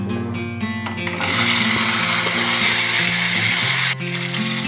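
Potatoes dropped into hot oil and cumin in a kadai (wok) for a thin rohu fish curry burst into a loud, steady sizzle that holds for a few seconds before briefly easing.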